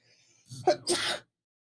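A single close sneeze, a quick sharp intake followed by a bursting exhale, then silence.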